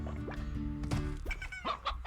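Hens clucking in the video game Slime Rancher, a run of short, close clucks and squawks repeating irregularly over a steady background hum, with no talk.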